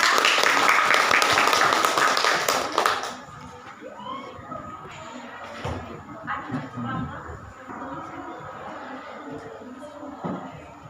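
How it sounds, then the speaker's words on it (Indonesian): Students in a ninth-grade classroom applaud their classmates, a burst of dense clapping for about three seconds that stops abruptly, followed by quieter room noise, scattered voices and a few light knocks. "Tepuk tangan untuk teman-teman kita."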